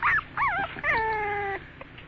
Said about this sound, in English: look at these puppies.